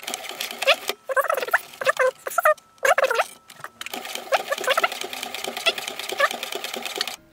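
A Brother sewing machine stitching through four layers of webbing, a loud rapid mechanical chatter in several stop-start bursts with short pauses between runs.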